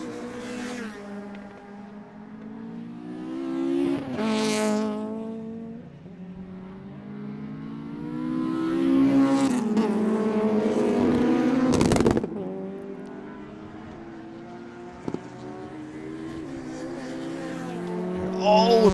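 Touring race cars lap a circuit at Campion Corner, engines rising and falling as they pass, with a sharp, loud burst near the middle and a commentator talking throughout.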